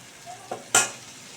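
Masala for a rui fish curry sizzles quietly in a pan, with a couple of soft stirring scrapes and one sharper clatter partway through.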